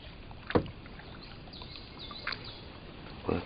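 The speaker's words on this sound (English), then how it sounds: "I just thought I'd show a little kayaking" Kayak paddling on a creek: three distinct splashy paddle strokes spaced about a second apart, close and fairly soft, with faint bird chirps in a quiet outdoor background.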